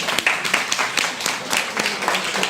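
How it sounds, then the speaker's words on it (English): A supportive audience at a stem cell event in Singapore claps together, a dense close burst of applause holding steady throughout, no one speaking. "Give yourself a clap."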